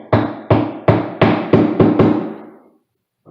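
Hammer drives an anchor into a wooden vanity, seven sharp, evenly spaced blows up close, each ringing briefly before a pause and a faint final tap.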